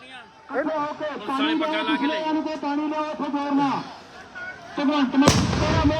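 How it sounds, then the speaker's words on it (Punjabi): Police fire tear gas shells at protesting farmers. Someone talks loudly and continuously over the scene, and a sharp, loud blast near the end cuts through his voice. "ਦੇਖੋ ਕਿਸ ਤਰ੍ਹਾਂ ਬੰਬ ਚਲਾਏ ਜਾ ਰਹੇ ਆ"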